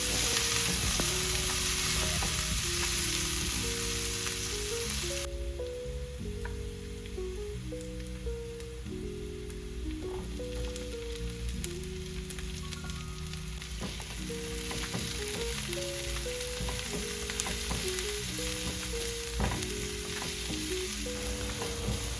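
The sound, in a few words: sautéing garlic, onion and capsicum in butter and sunflower oil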